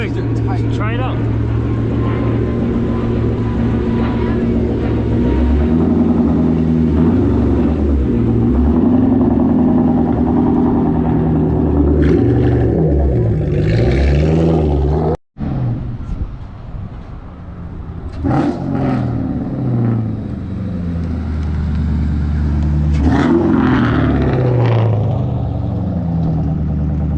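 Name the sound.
straight-piped 2001 Cobra car driving and revving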